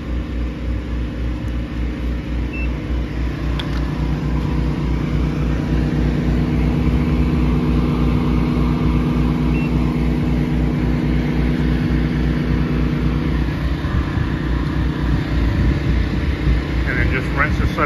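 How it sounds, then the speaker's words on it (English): Two FlowPro pressure washer machines run together while downstreaming soap with a Siamese flow-actuated unloader setup, giving a steady, loud low engine drone with constant mechanical rumble throughout, no pauses. "I'm downstreaming with both machines, by the way. Both FlowPros."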